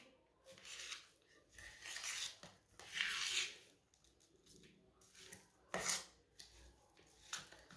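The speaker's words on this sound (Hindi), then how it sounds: "सब चीज़ों को अच्छी तरह मिक्स कर लेंगे" Mashed potato filling mixed with spices and oil for Punjabi aloo parathas, heard as soft intermittent rubbing and scraping of a spoon in a bowl, with quiet gaps between strokes.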